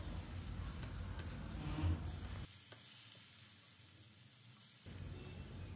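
Mushrooms seasoned with salt and black pepper sizzle in a pan while being stirred, a steady close frying hiss that drops away for a couple of seconds mid-clip before returning.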